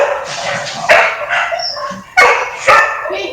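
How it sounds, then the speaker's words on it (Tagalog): Dogs bark loudly and close by in a few sharp bursts with yips and whimpers between them, no talk over them. "Ang ingay ng mga aso."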